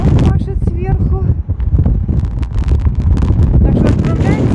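Strong squall wind roars and buffets the microphone on a stormy sea coast near Dvuyakornaya Bay, a loud continuous rumble with gusts, while people talk over it throughout.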